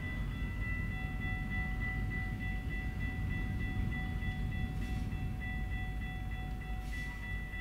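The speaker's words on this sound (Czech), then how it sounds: "A tady jsou všude ty vlaky v tom Novém Mexiku." Trains rolling through New Mexico in American Truck Simulator, a steady loud rumble of rail cars with sustained tonal whine over the top, running continuously without talk.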